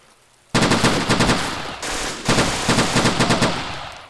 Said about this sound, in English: And he was shooting at me with an MG42, I believe, too.